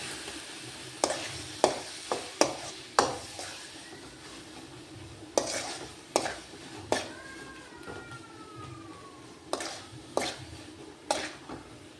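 Tomato bath gojju being stirred with salt in a pan, giving a run of sharp spoon-on-pan clanks and scrapes spaced irregularly over a soft background hiss, close and clear with no talk.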